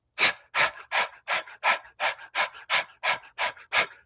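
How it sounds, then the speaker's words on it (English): A person does breath of fire, exhaling forcefully through the nose about eleven times in a quick, even rhythm, each breath a short sharp puff, close and otherwise quiet. "It should sound like this."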